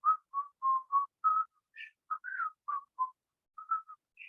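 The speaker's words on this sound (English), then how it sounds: "can you take yourself really lightly today and whistle?" A person whistles a short, lilting melody of clear, separate notes, close and alone in a quiet room, with brief pauses between phrases.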